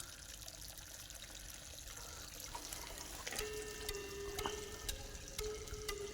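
Faint, steady trickle of water leaking and flowing into a field channel against a low background hiss, with a few light clicks and a thin tone near the end.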